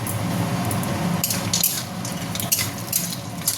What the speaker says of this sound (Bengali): তেলটা গরম হয়ে গেছে, বড়িগুলো ছেড়ে দিলাম।